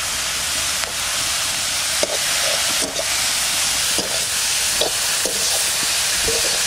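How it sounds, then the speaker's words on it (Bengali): Pumpkin leaves fry in a pan with garlic, chili, salt and turmeric, giving a steady loud sizzle with occasional soft stirring clicks throughout. "শাক ভাজা হয়ে গেছে, এবার তুলে দেবো।"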